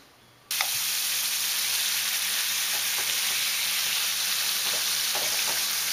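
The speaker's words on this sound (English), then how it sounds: "some of these things, especially when it comes to steak cooking, I love it. I love the sound of it." Steak frying in a pan bursts into loud, steady sizzling that starts abruptly and holds with dense crackling and occasional pops, alone without voices.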